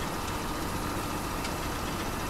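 A tractor engine in the Farming Simulator 2017 game runs at a steady, even drone, a constant low rumble with a broad hiss above it. It holds at an unchanging level throughout, with no voices.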